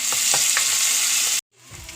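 Curry leaves dropped into hot oil for tempering, with garlic and shallots in the pan: a bright, dense sizzle with a few spatula taps that cuts out abruptly, then resumes more quietly.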